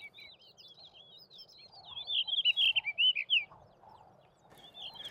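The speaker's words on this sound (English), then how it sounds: "the blue rock thrush." A blue rock thrush sings a series of quick, high warbling notes, clear and fairly close, with faint lower background sounds and brief pauses between phrases.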